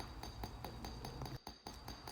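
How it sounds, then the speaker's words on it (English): Quick, evenly spaced light taps of a small hammer's narrow side texturing silver hydrangea petals, close and faint, repeating in a steady rhythm with a short pause midway. "I'm going to use the more narrow side to texture"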